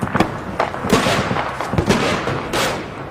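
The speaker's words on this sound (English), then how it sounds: "Mortars start to drop on the hillside." Mortar rounds and artillery fire thud and crack repeatedly across a hillside during fighting in Homs, Syria, a loud cluster of sharp booms with rumbling echoes, no talk.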